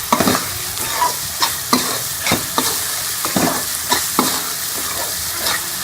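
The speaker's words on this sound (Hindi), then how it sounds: "मसाले को हम 2 से 3 मिनट के लिए अच्छी तरह से भून लेंगे" Masala spices for restaurant-style aloo gobi fry and sizzle in a pan, with a steady hiss broken by repeated scraping stirs of a spoon, close and fairly loud with no talking.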